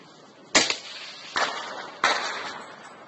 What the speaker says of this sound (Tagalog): Pero gumaganti rin ng putok ang kalabang sniper na nagtatago sa butas-butas na gusaling yan